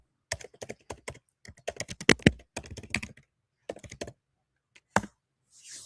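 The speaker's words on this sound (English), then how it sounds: "Those moments when I'm typing." Fingers type on a computer keyboard in irregular bursts of crisp, close clicks with short pauses between runs of keystrokes, heard alone without any voices.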